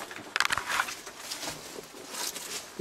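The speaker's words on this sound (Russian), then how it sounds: "Ящерицы, наверное, бегают." Small lizards scurrying inside a cave at the Tepe-Kermen cave city in Crimea, heard as faint, scattered patters and light rustles, briefly denser at the start and then sparse against quiet air.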